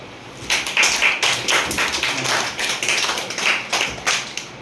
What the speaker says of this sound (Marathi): मला टाळ्या वाजव